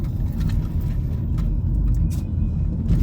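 Road traffic in Daytona Beach, Florida, on a rainy day before a hurricane, with a steady low rumble of cars passing nearby and faint intermittent clinks on top, no voices.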